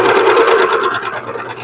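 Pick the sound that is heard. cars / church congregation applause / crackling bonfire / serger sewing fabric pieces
serger sewing fabric pieces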